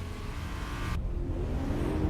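A Lamborghini Huracan engine hums steadily with exhaust drone, a moderate continuous car sound that shifts tone partway through.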